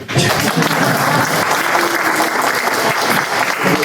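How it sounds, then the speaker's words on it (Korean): A crowd at a citizens' forum on redevelopment and reconstruction in Gwangmyeong applauds loudly, a thick, continuous burst of many clapping hands heard close with no speech. "박수."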